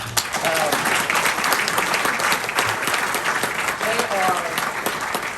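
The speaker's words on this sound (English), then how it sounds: "you should give them a round of applause" Audience applause at a lifetime achievement award event, continuous clapping throughout with a few voices and cheers mixed into the crowd.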